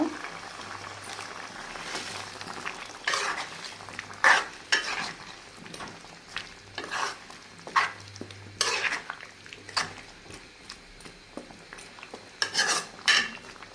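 Spiced potatoes stir-fried in a pan for a mung dal and potato curry cooked with chicken bones, with repeated scraping and clinking of a spoon against the pan over a low sizzle, brief clatters at intervals and no talking.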